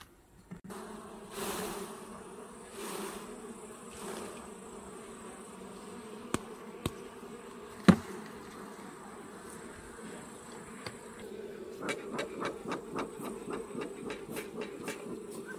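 Dense, steady buzzing of honey bees in an open hive while a honey frame is shaken to clear them, droning throughout with occasional knocks and a burst of rapid tapping near the end.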